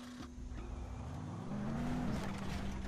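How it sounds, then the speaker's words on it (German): A car drives around in the video game Dead Island, its engine a steady hum that rises in pitch partway through as it speeds up, with no voice over it. "Jetzt fahre ich einfach mit dem Auto hier rum."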